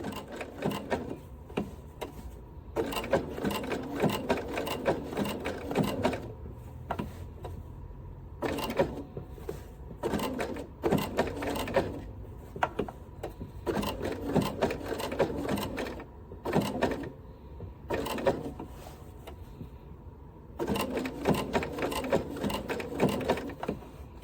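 A sewing machine stitching appliqué in real time, running in repeated bursts of rapid mechanical stitching separated by short pauses, moderately close and fairly quiet, with no talk.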